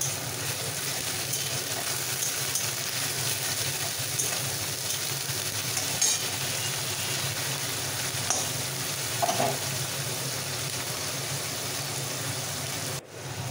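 Ground and finely chopped onion fries in a pan, a dense, continuous sizzle heard up close, with the occasional stir or scrape and no talking.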